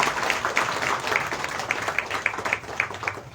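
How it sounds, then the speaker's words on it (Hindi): Audience applause welcoming the city MLA at a Bhagavat Katha religious gathering in Jodhpur, a steady, dense wash of clapping from a crowd that holds for several seconds, fairly loud and close. "जोरदार ताली बजा कर सम्मान करें"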